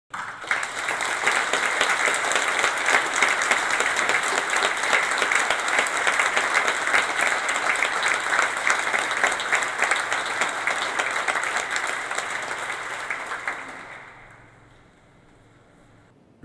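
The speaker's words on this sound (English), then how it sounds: "So let's applaud and celebrate a great colleague." A conference audience applauds to celebrate a late colleague, with long, dense clapping from a full room that holds steady for about fourteen seconds, then fades out.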